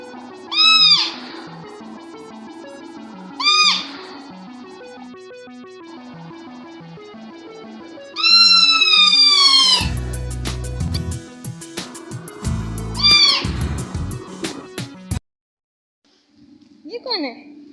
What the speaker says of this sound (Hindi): तैयार होते ही मेरहा ने बाजे बजाना शुरू कर दिए थे